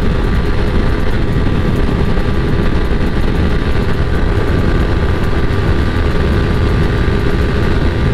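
A KTM Duke 200 and a Yamaha R15 V3 race toward top speed, producing a loud, constant engine roar and wind rush with no letup.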